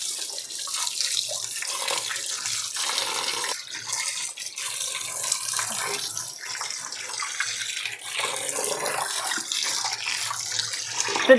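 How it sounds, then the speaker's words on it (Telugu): Tap water runs steadily as fish pieces are washed by hand in a kitchen, a close, continuous splashing stream with small bursts and drips, and no one speaks. "బాగా ఇలాగే 2-3 సార్లు కడిగేసుకోవాలండి ఓన్లీ వాటర్తో"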